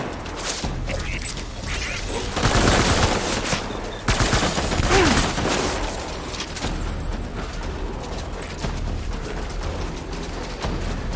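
Game gunfire in Death Stranding rattles in dense automatic bursts mixed with mechanical clatter, loud and fairly close, with a brief surge midway and faint voices now and then.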